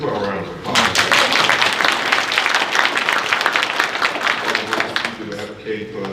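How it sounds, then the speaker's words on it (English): A town hall audience in Tuscaloosa breaks into loud, dense applause that holds steady for several seconds before easing off, with voices mixed in around it. "Let's give a round of applause."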